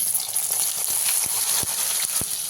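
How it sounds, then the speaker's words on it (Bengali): Squeezed soybean chunks frying in oil in a pan, cooked for a potato and soybean curry: a continuous bright hiss with scattered sharp crackles and pops, close and steady. "এই একই তেলে সয়াবিনগুলো আমি ভেজে নেব"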